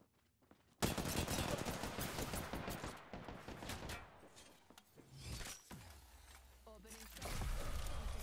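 Bursts of gunfire from an Apex Legends match on the Broken Moon map, loud and near, with sustained automatic firing, sharp impacts and shattering effects continuing throughout.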